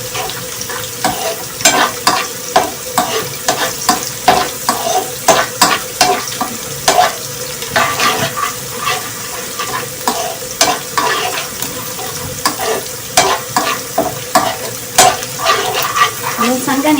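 Green garlic browning in hot oil for a tadka in a pan, a constant close sizzle punctuated by rhythmic scraping and stirring strokes of a spoon against the metal.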